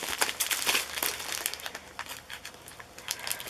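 A package being unwrapped, dense close-up crinkling and crumpling of plastic or paper that rustles steadily with short bursts, fairly loud and with no talk over it.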